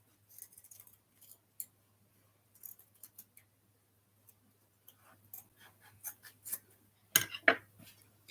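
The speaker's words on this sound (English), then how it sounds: "So I'm just going to go and cut" Scissors snip through burlap fabric in quiet, scattered cuts, short crisp clicks and rasps close by, sparse at first and then denser near the end, with no talking.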